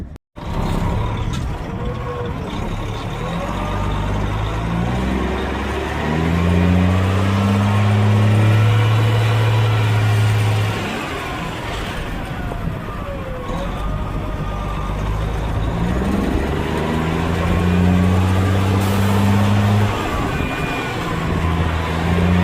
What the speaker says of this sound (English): Old AAA truck right there.